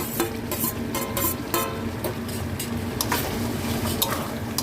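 Fried vegetables sizzle in a hot pan while a utensil stirs and scrapes repeatedly against the metal, a busy close-up clatter.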